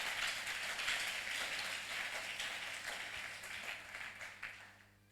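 A church congregation applauds together, a dense steady wash of clapping that holds for several seconds before tapering off near the end.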